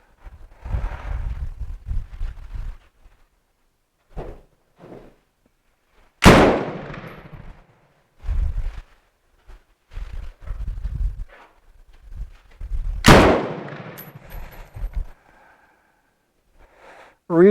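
A Bren MK2 machine gun fires two loud, sharp single shots several seconds apart, with quiet talking and handling noises in between.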